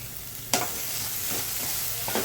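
Vegetable masala with turmeric and salt sautéing in a pan, a close, steady sizzle broken by the scrape of a stirring utensil, with one sharp clack early and a few softer scrapes after.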